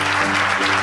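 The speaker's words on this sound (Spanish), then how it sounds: "tenéis que dar un aplauso" Studio audience applauding at the start of a live radio show recording, a steady dense wash of clapping throughout with no voices.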